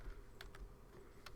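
A few quiet keystrokes click on a computer keyboard, three or four separate taps in a faint, quiet room.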